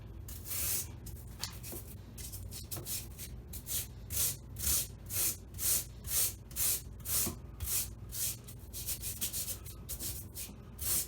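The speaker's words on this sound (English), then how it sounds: "This is a, what is this thing, like a sheetrock hand planer." A sheetrock hand planer shaves dashboard foam with a series of soft, raspy scraping strokes. The strokes come in a regular back-and-forth rhythm of roughly one per half second, quiet and close.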